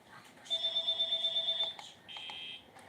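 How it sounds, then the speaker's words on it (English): A telephone rings in a FNAF-style video game, a shrill electronic trill pulsing rapidly for about a second, then a shorter, lower buzzing ring follows, fairly faint against a quiet background. "Now let's listen to the phone call."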